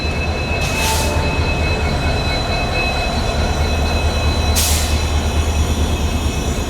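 A train rolls at a railway station platform with a loud, steady rumble and low grinding, and two short hissing bursts from brakes or air release, all close and continuous with no one talking.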